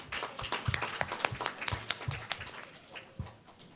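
Audience applause breaks out for a primary-school spelling bee contestant in St. Lucia: scattered, close hand claps with a loose uneven rhythm, moderately loud, and no talking.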